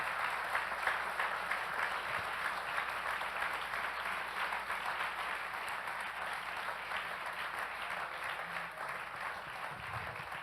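A Spanish-speaking church congregation applauds during a Sunday morning sermon, a steady, even roar of many hands clapping at a moderate distance, sustained without a break for the whole stretch.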